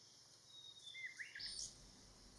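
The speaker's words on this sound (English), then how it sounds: "This is the blue-winged pitta." Blue-winged pitta calling on Man-nai Island (Koh Man-nai), Rayong, Thailand: a few short, clear whistled notes heard close to the microphone against a quiet outdoor background.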